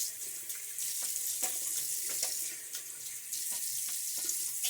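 Tap water runs steadily into a sink while a face is rinsed mid-shave, a continuous bright splashing with small irregular bursts and dips, close and fairly loud, with no talking.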